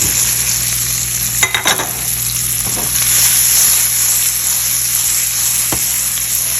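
Okra frying in a pan with hot spices: a steady, loud sizzle throughout, with a few clattering stirs and scrapes of a utensil early on and near the end, and no talk.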